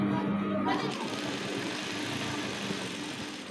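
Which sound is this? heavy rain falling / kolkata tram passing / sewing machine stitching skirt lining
sewing machine stitching skirt lining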